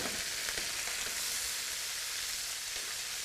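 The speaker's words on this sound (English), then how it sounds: "put these all in and then lightly saute till it's brown" Rabbit pieces, with virtually no fat, sautéing in a pan until browned give a steady, close sizzle and crackle with faint stirring, no voices present.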